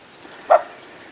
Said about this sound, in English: Ah, the dog finally woke up.